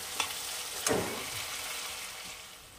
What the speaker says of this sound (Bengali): এবার এটাকে আমি খুব ভালো করে সাঁতলাবো, টমেটোটা পুরো নরম হয়ে যাবে।